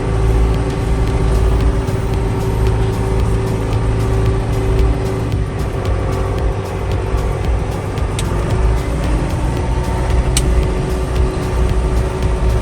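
A John Deere 6310 tractor of about 100 horsepower with a PowerQuad transmission drives along, its diesel engine giving a loud, steady, continuous drone with a constant low rumble and no change in pace.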